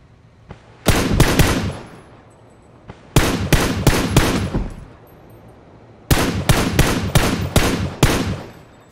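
PUBG gunfire from a PC match: three bursts of rapid automatic shots, each a loud, sharp volley of cracks lasting about a second or more, separated by short quiet gaps, with a couple of single shots before the first burst.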